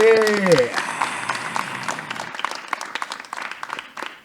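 At a school poetry event, an audience of 6th and 9th grade students claps, scattered sharp hand claps that thin out after a voice speaks at the start.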